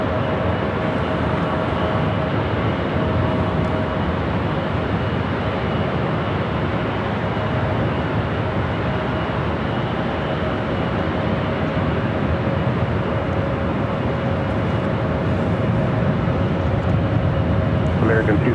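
A United Airlines Airbus A321neo airliner bound for Denver at Los Angeles International Airport, its engines a steady, loud broadband roar that holds throughout with a faint tonal whine running beneath.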